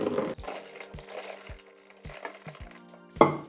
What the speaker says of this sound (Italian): Muoviamo un po' il sifone per far uscire l'ultima acqua